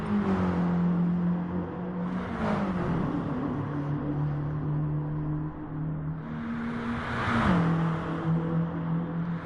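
Race car engine in a GT Sport replay, revving high and dropping through gear changes, with two distinct surges of acceleration and a whining drone between them, loud and alone without talk.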